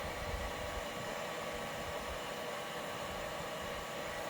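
A hair dryer on low heat warms a Dbrand skin on a Nintendo Switch OLED, giving a steady, even rushing hiss of airflow that stays constant throughout with no talking.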